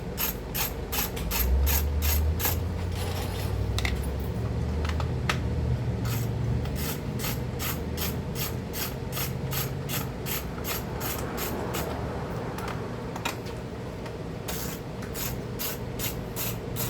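Bolts come off the recoil starter of a Craftsman 2800 pressure washer under a ratchet, which clicks in fast, even bursts close to the microphone over a low mechanical rumble, with a short pause partway through.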